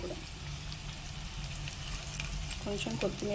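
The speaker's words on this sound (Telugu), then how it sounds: "ఇలా వేగుతూ ఉన్నప్పుడు కరివేపాకు" Steady crackling sizzle of spices and curry leaves popping in hot oil for a bottle gourd curry tempering, close and continuous, with some faint clinking near the end.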